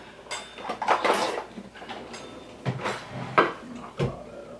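A spatula scrapes and knocks egg and cream cheese batter off a mixing bowl for cheesecake, in several irregular scrapes and taps, close and fairly loud, with no talk.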